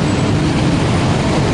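A Jakarta commuter train, a loud continuous rumbling roar of rolling carriages heard up close with no talk.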